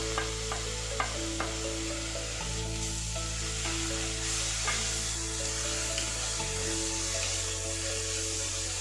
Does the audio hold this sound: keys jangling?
no